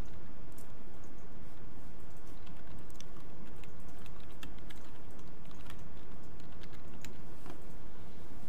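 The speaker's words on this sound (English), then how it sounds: "Let's click on A2 and type in initial amount invested." Continuous rapid keyboard typing on a computer while filling cells in an Excel spreadsheet during a lecture, a steady patter of keystrokes with a few sharper clicks, close and alone without talk.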